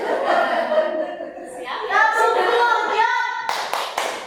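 A group of parents and teachers claps out the 'tepuk good job' rhythmic chant, with sung and spoken voices over steady patterned clapping and a few sharp, distinct claps near the end.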